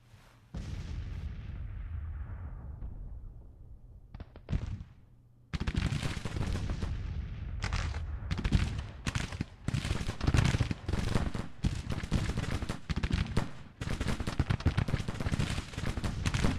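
Civil War troops firing muskets and artillery in the strategy game Grand Tactician: The Civil War, with a rumbling low roar, then a sudden sustained barrage of loud, overlapping volleys and booms after a brief lull.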